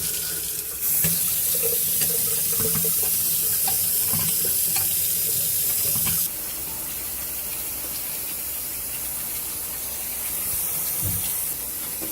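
Cold water runs from a kitchen tap into a sink, a loud continuous hiss and splash that holds steady for about five seconds, then drops to a quieter, softer flow as the sink fills, with occasional clunks.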